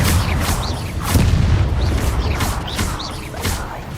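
Booming blasts from the Confringo fire spell in Hogwarts Legacy repeat at a steady pace, several loud thumps with crackling tails layered over constant game ambience.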